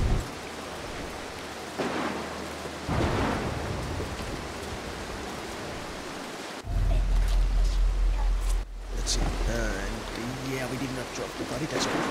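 Thunderstorm with heavy rain and rumbling thunder in the stealth game Mark of the Ninja, a steady rain wash broken by loud low thunder bursts around the middle and later, with someone talking over it.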